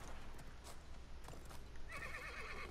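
A horse in the video game Realm Royale lets out a loud whinny over the clip-clop of its hooves, with a steady game background and a brighter, higher neigh rising near the end.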